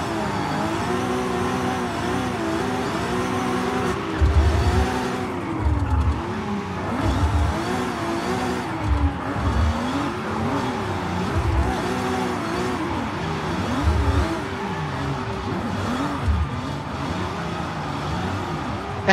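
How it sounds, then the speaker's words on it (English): A car drifting in the racing video game Forza Horizon 5, its engine droning steadily with wavering pitch as it revs and slides, with low thumps and continuous tire noise throughout. "I guess this is a perfect drift."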